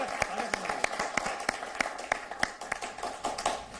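Audience applause for a poet at a poetry competition on nationalism: scattered crowd clapping with distinct, rhythmic sharp claps standing out over the background, moderately loud and continuous.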